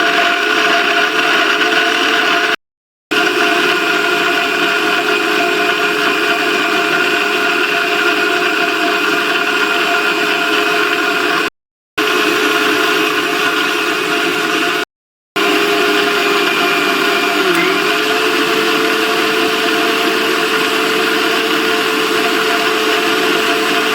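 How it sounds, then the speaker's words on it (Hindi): Kitchen mixer grinder whirring steadily as it grinds cut coconut pieces into a fine paste in the jar, loud and close, running continuously with three very brief stops, no talk. "पीस लेते हैं हम सारे नारियल के टुकड़े जो काट के हमने रखे हैं मिक्सी के जार में"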